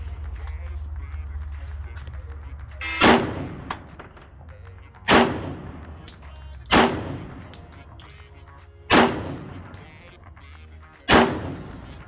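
Five loud, sharp pistol shots ring out on a bullseye shooting range, spaced about two seconds apart with short echoing tails over a quiet background hum.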